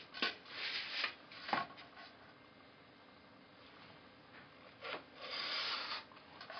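A blade slices straight through foam board in a few short scraping, rasping strokes, close and fairly quiet, with pauses between cuts while making model furniture.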